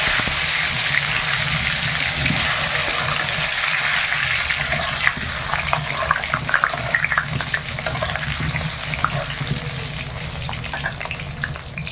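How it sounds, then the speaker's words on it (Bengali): Potatoes frying in hot oil in a wok on a village kitchen stove: a loud, continuous sizzle with scattered crackles and occasional stirring scrapes, and no voices. "তেলটা গরম হয়ে গেছে, আলুটা আগে ভেজে নেই।"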